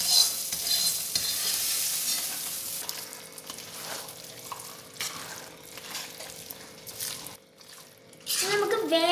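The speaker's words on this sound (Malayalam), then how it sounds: "പിന്നെ നന്നായി മിക്സ് ചെയ്യാം." Kerala-style tapioca biriyani being stirred after tempered mustard seeds are poured in: a steady, loud scraping and sizzling mix with bursts of crackle, and a brief voice near the end.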